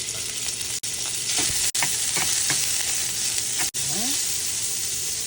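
Pork sizzles steadily in hot cooking oil for fried rice, a loud constant crackle close up with occasional stirring scrapes and brief pauses.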